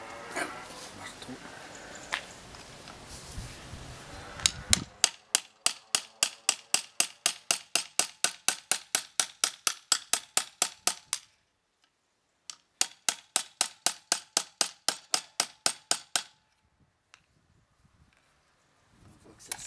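Hammer tapping a brake caliper piston during caliper restoration, a long run of rapid, evenly spaced sharp metallic taps, a brief pause, then a second burst, preceded by muffled handling noise.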